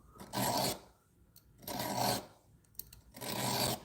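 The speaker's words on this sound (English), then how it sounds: "So I'm filing at more of an angle, closer to parallel to the surface of the metal." Hand filing on metal held at a shallow angle: three slow, rasping strokes, each roughly half a second long, separated by short quiet pauses, close and fairly faint.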